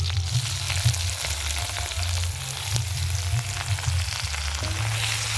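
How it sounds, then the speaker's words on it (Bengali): Chopped onion, grated ginger and garlic fry in a pan with a constant loud sizzle, overlaid by occasional scraping and stirring clicks throughout. "পেঁয়াজটা খুব ভালো করে ভাজা ভাজা করে নেব"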